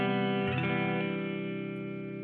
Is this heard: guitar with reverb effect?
yes